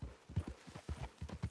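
Horse hooves clip-clop in a video game, a quiet, even run of hoofbeats in a steady trotting rhythm with no voices over it.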